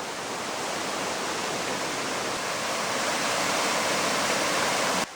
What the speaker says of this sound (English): I do love a good waterfall.